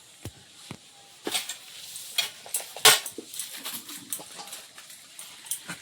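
Luchi fry in a pan of hot oil with sparse crackling sizzles and sharp clinks of a utensil against the pan, close and moderately loud, with quiet pauses between bursts.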